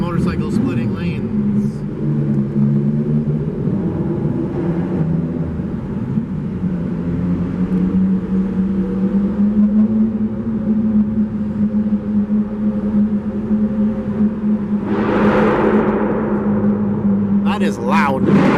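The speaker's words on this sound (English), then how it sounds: "Okay, the engine sounds less gooder," Steady engine drone of a 1988 Honda Accord on a highway, a continuous low hum with road and wind noise throughout, while people talk inside the car over it.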